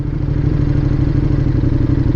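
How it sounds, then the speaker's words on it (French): A KTM 1390 R Evo motorcycle with a big engine and short exhaust, a loud, close, steady low engine drone with a fast pulsing exhaust beat, cruising evenly the whole time, with no voices. "On a un bruit assez présent, hein, évidemment. Gros moteur, petit échappement."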